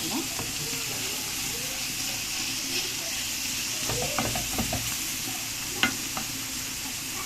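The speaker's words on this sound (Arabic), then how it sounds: "اقعد اقلب فيها كده عشان ما تلزقش" A spoon stirs boiled taro with coriander in a pot, making scattered scrapes and knocks over a steady bubbling hiss, with a sharper clack near the end.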